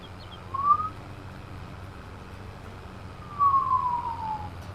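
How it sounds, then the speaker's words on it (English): An ambulance siren in the PC video game No Man's Land sounds twice as a faint, distant wailing sweep, with quiet ambient noise in between. "Oh, that's actually an ambulance."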